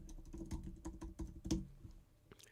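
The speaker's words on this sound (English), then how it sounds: "What am I typing?" Rapid, irregular clicking of fingers typing on a computer keyboard during a casual live chat stream, close and fairly clear, with no talking over it.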